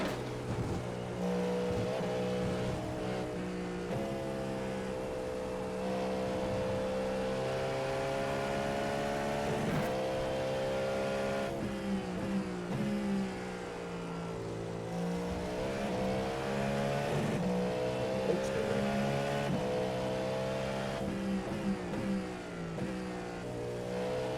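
Cadillac GTP race car engine in iRacing, a loud continuous high-pitched drone that rises and falls with revs and gear changes, steady and close throughout with no voices.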